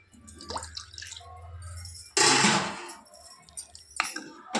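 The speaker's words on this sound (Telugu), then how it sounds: "కర్రీకి సరిపడా వాటర్ వేసుకోవాలి." Water poured into a pan of hotel-style mushroom curry, a short loud splashing gush in the middle, with softer drips and clinks around it.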